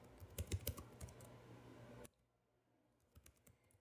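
Quick keystrokes on a computer keyboard enter a command in a quiet room, a close burst of clicks that stops abruptly, followed by a few faint scattered taps.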